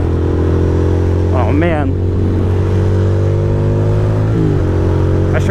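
A motorcycle engine droning loudly and steadily while being ridden across Manhattan on a cold morning, with a couple of quick throttle blips that rise and fall; someone speaks briefly over the close engine noise.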